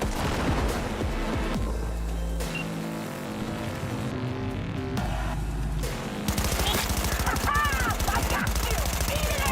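Rapid automatic gunfire from a weapon with heavy recoil in the video game Cyberpunk 2077, loud dense bursts with a pause in the middle and a continuous stream of shots at the end over game music and effects.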